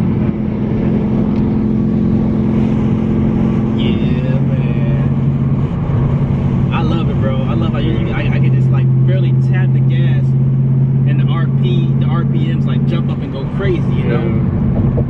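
Steady car engine drone with shifting revs as the car drives with an aftermarket pedal box fitted, held close and loud throughout, while people talk over it.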